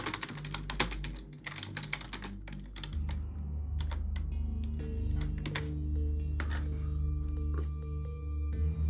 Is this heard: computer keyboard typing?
yes